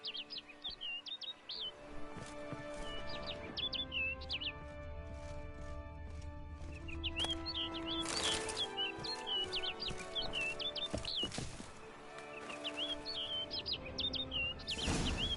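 Bright, repeated chirping calls of a bird in the video game The Witcher 3 Blood and Wine, sounding in short bursts throughout over a soft ambient music bed, with no talk.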